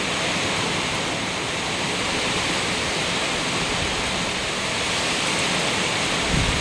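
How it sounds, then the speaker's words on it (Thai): Heavy rain pours during a sudden storm, a dense, constant roar of falling water that stays loud and unbroken throughout, with no voices. "ก็ไม่คิดว่าฝนหรือว่าพายุจะมาเร็วขนาดนี้นะคะ"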